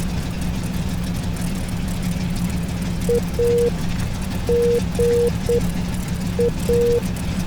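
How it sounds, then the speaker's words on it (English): Simulated F4U-1D Corsair piston engine in a DCS flight sim, a steady low droning rumble running throughout at moderate level, with a few short beeping tones layered on top partway through. "And then we will slowly run up the engine."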